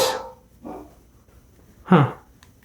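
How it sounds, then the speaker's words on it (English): A dog barks at home in three separate yelps, the first and last loudest and the middle one softer, close by with quiet gaps between them and no talking. "The dog's going crazy over ghosts over here."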